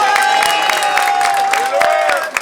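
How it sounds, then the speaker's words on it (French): Scattered clapping from a crowd at a football championship gathering, with a steady high-pitched tone humming through it and a few louder claps near the end. "Je remercie et applaudissons Michel et son équipe"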